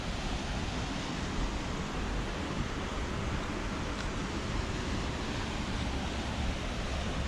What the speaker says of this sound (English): Looks just like glacier water. Beautiful waterfall.